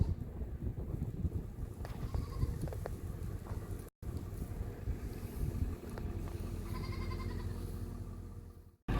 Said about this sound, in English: we got part of the bale fed to the goats